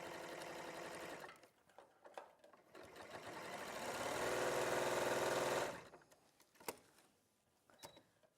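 A sewing machine straight-stitching over quilted lines runs in a steady whir, slowing and speeding before a sustained fast run, then stops, leaving a few faint clicks and handling sounds.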